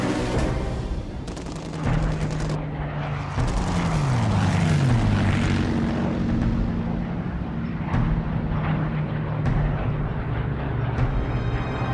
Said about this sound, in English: With large numbers of fighter escorts sweeping ahead of them, the bomber formations cross the English coast.